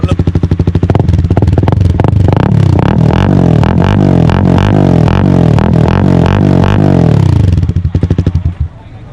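A Honda CB150R fitted with an aftermarket SC exhaust revs hard and loud nearby, its engine note rising and falling in repeated throttle blips with a rough, crackling exhaust before settling to idle.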